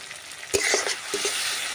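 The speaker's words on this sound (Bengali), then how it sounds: "এবারে আমি ঢেলে দেবো সরষের জলটা" Strained mustard water with a pinch of turmeric poured into a hot pan of melted tomatoes for a tangy fish dish, giving a close, bright sizzle with a few sharp spits and crackles over a quiet hiss.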